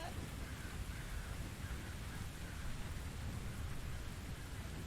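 Steady rain pours down in a Victorian-era mystery setting from The Invisible Hours, a continuous broadband hiss with a low rumbling undertone, even and unbroken throughout.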